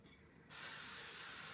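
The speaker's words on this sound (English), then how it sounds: "We're gonna spray our crock pot" Cooking spray hisses into a crock pot before whole scraped potatoes go in: one sharp, close, continuous aerosol burst that starts suddenly after a brief quiet moment.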